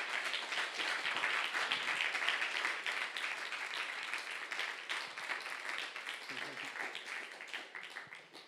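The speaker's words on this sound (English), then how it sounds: "Daniel Frota de Abreu, who also deserves a round of applause, please" Audience applause at a conference panel session, a dense patter of many hands clapping at moderate distance that continues for several seconds and slowly thins toward the end.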